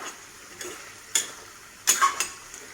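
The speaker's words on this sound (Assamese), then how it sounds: "এনেকৈ অলপ ভুনিবই লাগিব, মছলা তেল দি পেলাই।" Fish head masala fries in oil while being stirred, a few sharp spatula scrapes and clicks breaking a faint, steady sizzle close by.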